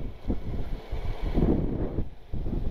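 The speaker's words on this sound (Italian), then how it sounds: "un sacco di vento" Wind buffeting the microphone during a motorcycle ride on the island of Elba, a steady low roaring rush with uneven gusts throughout and no voices.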